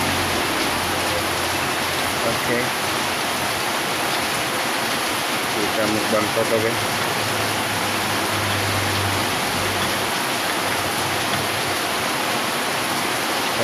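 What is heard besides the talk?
heavy rain outside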